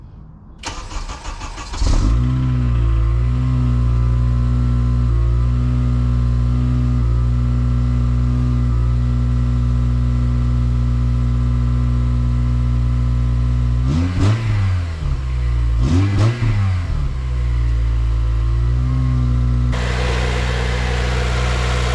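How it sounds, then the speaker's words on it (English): Honda Civic Si FA5 with stock airbox starting up and idling steadily, then revved twice in quick bursts around the middle before settling back to idle, close and loud. "you guys can hear her a little bit"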